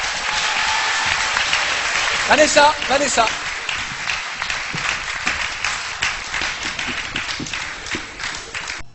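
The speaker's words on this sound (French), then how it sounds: "S'il vous plaît, applaudissez" Students and audience at a French classroom quiz break into sustained applause for a correct answer. The clapping is dense and even, and a voice calls out briefly partway through before the clapping thins toward the end.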